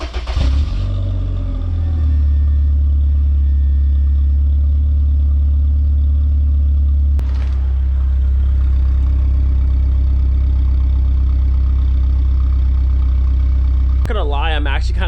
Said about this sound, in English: we can see what the car sounds like with a muffler delete